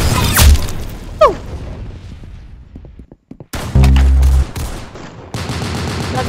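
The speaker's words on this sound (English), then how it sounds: "Got this M1919A6 machine gun." M1919A6 machine gun firing in the video game Arsenal, heavy booming shots and rapid bursts mixed with whooshes and explosions, loud and close with a brief dropout midway.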